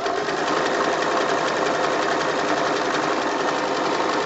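A sewing machine stitches a Bali bag, with fabric folded tightly around cotton clothesline, making a steady, continuous mechanical whir at close range throughout.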